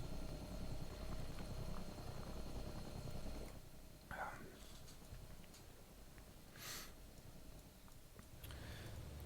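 Cargo plane droning steadily overhead in the Rise of the Reds strategy game, a continuous engine hum at moderate level with a few brief higher clicks and blips layered over it.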